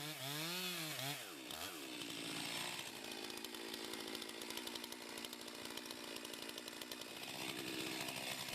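A chainsaw revs up with rising and falling pitch, then bites into a tree trunk for a bottom notch cut, holding a loud, steady buzzing drone as the chain chews through the wood.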